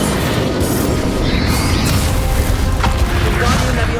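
Explosive spell blasts in Hogwarts Legacy, Confringo and Bombarda, bursting and popping amid a dense, continuous clatter of game combat.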